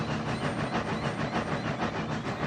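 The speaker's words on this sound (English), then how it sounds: "A train of tankers was over by the siding." A train of tanker cars rolls past near a harbor siding with a steady, heavy rumble and a faint rhythmic clatter, continuous and fairly close.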